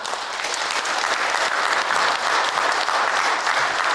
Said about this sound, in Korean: 나오실 때 큰 환영의 박수로 함께 해주시면 좋겠습니다.